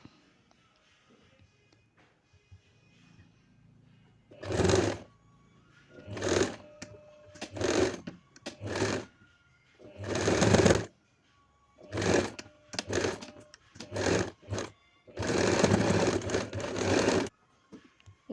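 Sewing machine stitching the hem of a pant bottom, sounding as a series of loud, close bursts of rapid mechanical running separated by short pauses, with no talk over it.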